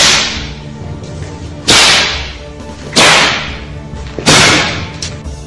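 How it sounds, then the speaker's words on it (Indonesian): Three sharp, loud whip cracks at roughly even intervals, each a sudden snap fading quickly, over a quieter background. "Cambuknya terdengar meledak-ledak,"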